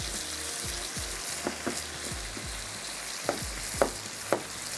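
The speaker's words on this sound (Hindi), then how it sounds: "मैं इसको थोड़ा सा भूनती हूँ" Marinated minced meat (qeema) sizzles steadily in a pan as it is stirred, a dense frying hiss broken by several soft scraping and clanking knocks of the spoon, close and without talk.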